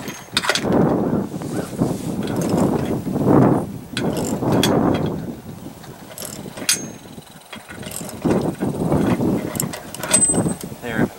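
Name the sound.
socket wrench ratcheting, tightening bolt into nylon lock nut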